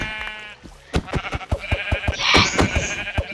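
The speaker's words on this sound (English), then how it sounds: "Oh, yes! Sheep." Minecraft sheep bleating in the game: a wavering, nasal baa with trembling pulses, loud and close, repeated in quick succession over a faint background.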